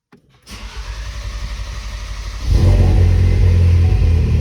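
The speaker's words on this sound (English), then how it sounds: "We'll fire her up, let her get up to temperature" A Ford Focus RS engine cranks after an oil change and ECU reflash, catching with a loud, close, slightly uneven idle rumble. About two seconds later it rises to a heavier, steady rev.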